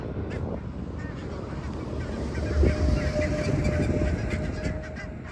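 A flock of wild geese honking continuously in Thailand, a dense overlapping clamor that swells slightly midway, with faint voices underneath.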